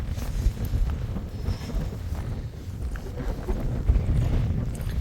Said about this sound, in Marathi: पण खूप जास्त हवा आहे, विंड आहे खूप जास्त.